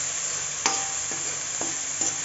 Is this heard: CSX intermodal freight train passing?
no